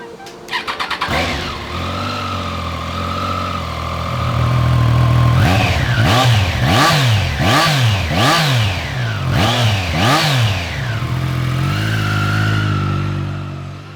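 A Triumph Trident 660 motorcycle on a ride, its engine revving hard through several rising and falling sweeps as it accelerates and shifts, loud and close, with a steadier drone at the start and end.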